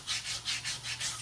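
Steel knife blade edges and corners rubbed with 120 grit sandpaper, a close, steady back-and-forth rasping in about six even strokes, with no talk.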